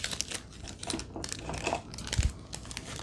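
Paper cover crinkling as it is handled during crafting work, with a run of light, close crackles and rustles, one firmer crumple near the end.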